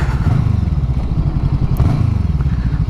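A light Voge 500R roadster motorcycle pulls away up close, its engine throbbing in a quick, uneven rhythm with a low, rumbling pulse and a faint mechanical clatter, and no voices over it.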